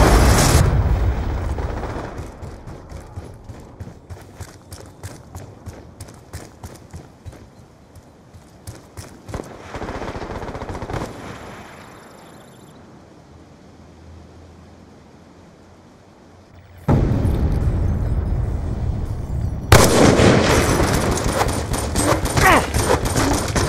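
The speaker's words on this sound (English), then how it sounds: "Friendly Hellstorm missile inbound." Hellstorm missile strikes in Call of Duty: Black Ops 2 land as rapid, rattling bursts of explosions and gunfire-like crackle, with a steady barrage early, a quieter lull in the middle, then dense loud blasts returning toward the end.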